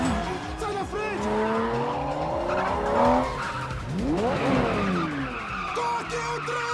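Fast cars in a movie chase roar and screech with tire squeal and skidding, dense and loud throughout, with voices talking over the racing engines.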